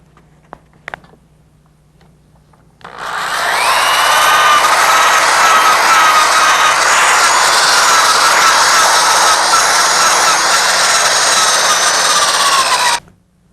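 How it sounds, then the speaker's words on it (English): A power sander with 80 grit sandpaper working body filler on a car panel, a loud continuous high whine that starts abruptly after a few quiet seconds with light taps and runs steadily for about ten seconds before cutting off. "now the next step will be to start sanding with 80 grit sandpaper"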